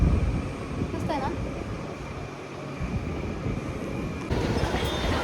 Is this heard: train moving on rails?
yes